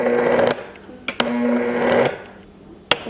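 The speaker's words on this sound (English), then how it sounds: "now we will blend until it is an ice cream consistency" A blender whirs in short bursts with pauses between them as it blends a frozen mixture to ice cream consistency, its pitch steady while running, punctuated by a few sharp clicks.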